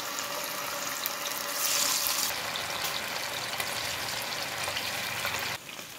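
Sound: anchovy (nethili) fish frying in hot oil in a pan

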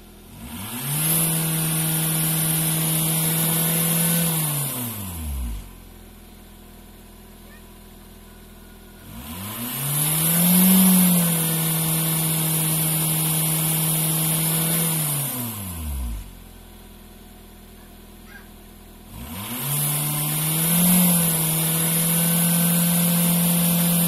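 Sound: Ford Mondeo 2.0 TDCi engine revving

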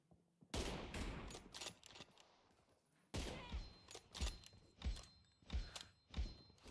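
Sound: sniper rifle gunshots in a mobile shooting video game

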